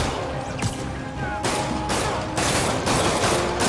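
Enemy gunfire in the Spider-Man PS4 video game, a dense fusillade of rapid shots in bursts that continues steadily through the clip, loud and close, with brief crashes mixed in.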